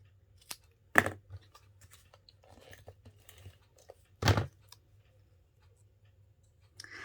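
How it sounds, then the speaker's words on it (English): Metal snips cut through material with two sharp, loud crunching snaps about three seconds apart, the rest of the time quiet apart from faint handling clicks and a low steady hum. "on this one I am going to have to bring out my snips"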